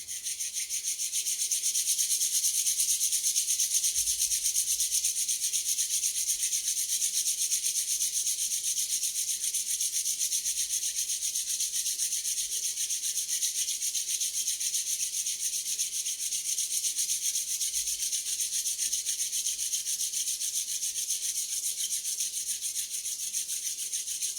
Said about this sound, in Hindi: तो इसमें हमें अपनी उंगलियों को जोड़ करके दोनों हाथों को रगड़ेंगे